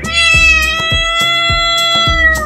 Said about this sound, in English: Cat. And the sound of the cat is